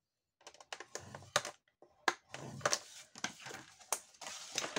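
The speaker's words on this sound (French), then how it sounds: "je vais faire un pli à 8 cm" Card paper being creased and folded at 8 cm by hand for a flap-style greeting card, giving a run of close, crisp scraping and tapping sounds with short pauses and no speech.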